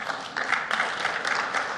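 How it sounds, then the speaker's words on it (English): An audience at a talk breaks into sustained applause, many hands clapping in a dense, steady wash that carries on throughout. "I don't know why you are applauding."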